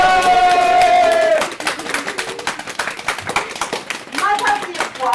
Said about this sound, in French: Et nous applaudissons notre PDG de la semaine, Madame Mirepoix.